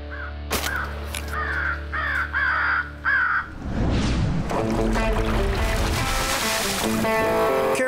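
Crows cawing during a crow hunt in North Carolina, several harsh calls in a rhythmic series of about five caws, then a louder burst of water and motor noise covering the rest.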